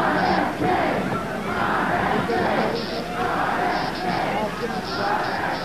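Crowd in a hotel ballroom breaking into panicked screams and shouting after the Robert F. Kennedy assassination shooting, a dense sustained wall of voices in waves of yelling throughout.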